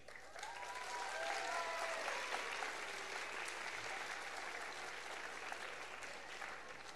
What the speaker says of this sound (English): let's give a round of applause to Miss Pernard Brace